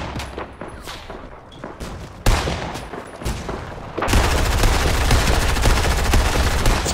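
Scoped assault rifle gunfire in Fortnite: scattered single shots at first, then a loud, sustained burst of rapid fire filling the last few seconds.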